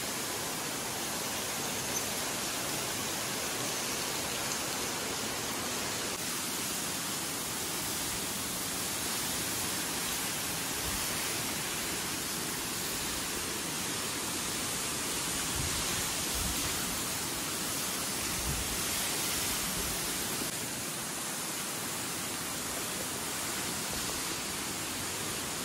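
Baba waterfall at Kumbhavade roaring as a steady, dense rush of falling water that holds an even level throughout, with no voices.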